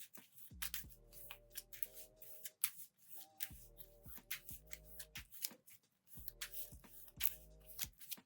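Trading cards in a card game are shuffled back into a deck, crisp riffling bursts and flicks in quick clusters, quiet and close, with soft background music underneath.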